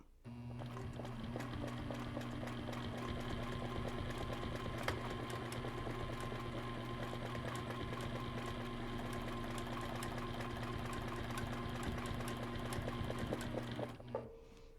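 A sewing machine stitches fabric triangles for a wedgie set, running in one continuous fast rhythmic whir for about fourteen seconds before stopping. It sounds close and steady, with no talking.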